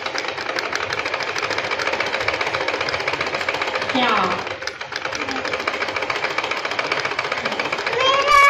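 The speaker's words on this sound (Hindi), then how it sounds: "अब फिर से मशीन में सिलाई लगाई जा रही है।" Sewing machine stitching a suit, a rapid steady mechanical chatter running continuously and close by, with a voice talking over it and a brief lull near the middle.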